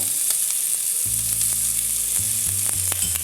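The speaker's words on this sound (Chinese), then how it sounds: "炒到表皮有点稍微发焦，就可以加入2勺糖" Pork ribs stir-frying in a wok in their own rendered fat, a loud continuous sizzle broken by scraping strokes of a spatula, with low tonal hums in the background.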